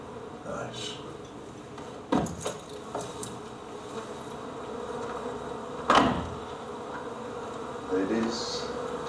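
A steady, low buzzing of honeybees runs throughout, with a few sharp knocks and clatters breaking through now and then.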